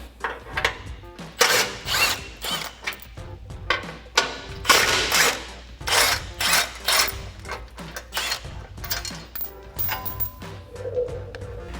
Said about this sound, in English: So now we can take a 15mm socket to remove our 2 bolts.